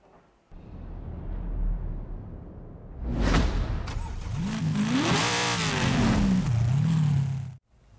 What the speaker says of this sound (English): take this car to a test drive, because gonna do a race in it